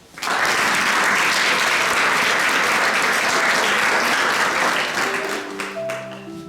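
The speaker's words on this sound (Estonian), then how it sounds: "Aplausi." A large audience applauds loudly and continuously at a sports awards ceremony. The dense clapping swells quickly, holds, then tapers off as a few musical tones begin near the end.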